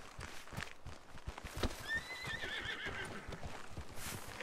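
A horse whinnies in a short rising-falling neigh amid repeated clip-clop hoof steps, all faint and set in a video game wilderness; no speech.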